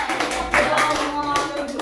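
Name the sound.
audience clapping for a group of students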